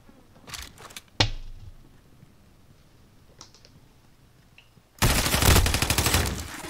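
Shotgun blasts ring out in the Warzone video game: a few sharp shots early on, then a dense burst of loud gunfire near the end, with no talk over it.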